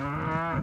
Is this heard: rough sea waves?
no